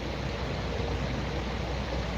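Heavy rain pours down steadily, a dense, even roar of water with no pauses, close and constant throughout, with no voices over it.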